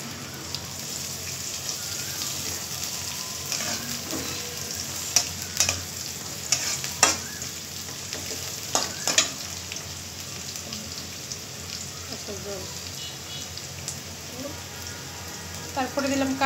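Chopped onion and garlic sizzle in hot oil in a cooking pot, a constant crackling fry broken by louder scraping stirs and clacks of a spoon against the pot.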